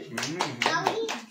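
A few children clap their hands together at a birthday celebration, quick bright claps close by, mixed with young voices talking and calling out.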